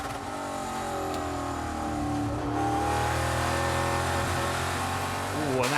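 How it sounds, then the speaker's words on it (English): NASCAR race car in the NASCAR GP UK round with its gearbox failing, heard on board as a loud steady engine drone whose pitch wavers and climbs, then shifts abruptly at the end. "Dubek, I think the gearbox potentially letting go on him there"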